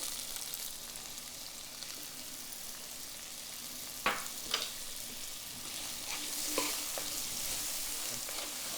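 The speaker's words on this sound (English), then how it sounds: "the avocado oil will help us get a little hotter than that as we're sauteing up the onions." Onions sautéing in hot avocado oil give a continuous, fairly quiet sizzle, with a few brief spatula taps and clicks partway through.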